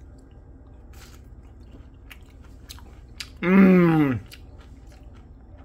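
A Trader Joe's mozzarella cheese stick dipped in marinara sauce is bitten and chewed close up in one short burst of squishy, moist mouth sounds over a quiet background, with a brief murmur from the eater.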